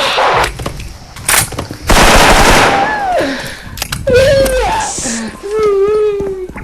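Rapid bursts of automatic gunfire from a team video game match crack loudly in the opening seconds, followed by in-game effects and whining tones as players shout over the action.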